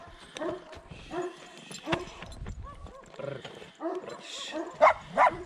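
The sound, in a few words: dog barking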